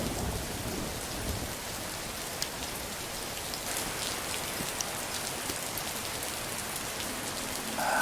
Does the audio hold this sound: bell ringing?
no